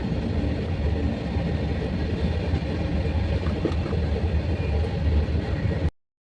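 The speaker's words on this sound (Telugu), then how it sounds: "ట్రైన్ వెళ్ళిపోతుంది" A steady, loud rumble of a passing train, continuous broadband noise with rattling texture, ending abruptly.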